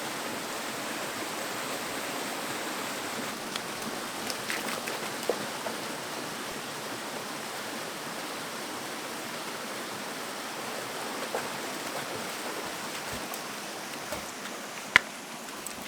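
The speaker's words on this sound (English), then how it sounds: "it's just this really beautiful little waterfall" A small waterfall near Waiparous campground pours in a steady, even rush of white water, close and continuous, with a few faint clicks and knocks.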